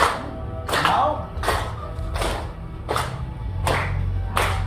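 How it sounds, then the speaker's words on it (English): A group clapping hands in a steady rhythm, roughly one clap per second, each beat sharp and fairly close, over a low background hum with no talking. "Keep clapping, keep clapping."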